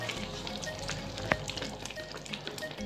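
Chickpeas frying in a pan with garam masala and black pepper being stirred in, a continuous close sizzle with a brief scraping knock of the spoon partway through, no voices.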